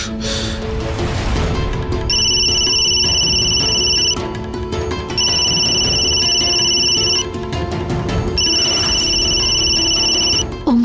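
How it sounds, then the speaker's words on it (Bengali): A telephone rings unanswered in a Bengali TV drama scene: three long electronic ringtone bursts, each about two seconds with short pauses between, loud and close over a faint background. "প্লিজ ফোনটা তুলুন"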